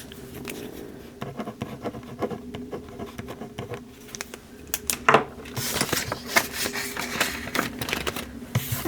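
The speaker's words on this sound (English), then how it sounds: "Let's write that on there." Pen or marker writing on paper at a desk while cash savings are counted, with scratchy strokes and rustling scattered through, growing busier and louder toward the end.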